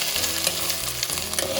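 Chopped onions sautéing in a pan for a Kerala-style crab roast, a steady close sizzle with stirring scrapes running throughout, no voices.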